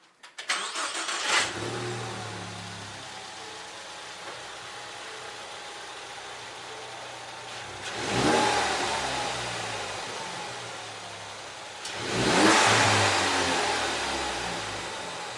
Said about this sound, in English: let's go ahead and crank up the car, do a before of the with the stock airbox in